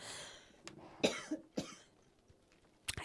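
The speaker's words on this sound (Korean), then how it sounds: "죄송합니다. 자꾸 기침이 나네요." A man coughs several times in short separate bursts, near and fairly quiet, with a throat-clearing rasp and brief pauses of near silence between the coughs.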